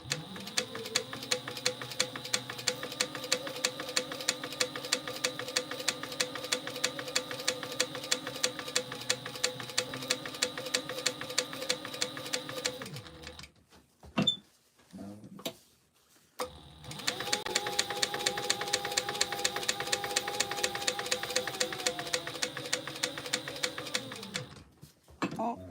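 A sewing machine stitching a crossbody bag, a fast, even mechanical clatter running steadily, stopping for a brief pause, then resuming at the same rapid rhythm.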